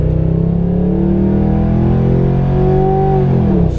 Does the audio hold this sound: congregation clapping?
no